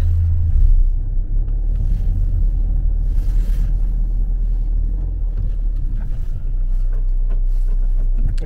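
A Mercedes Vito van driving along a snowy road in Chisinau, its engine a steady low rumble close up, with road and wind noise and no talking.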